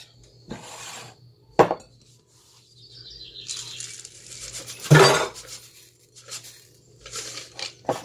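Rolled oats are measured into a bowl of brown sugar for an apple crisp, heard as scattered clinks, taps and light scraping of a measuring cup against the bowl, with two sharper knocks and soft rustling between them.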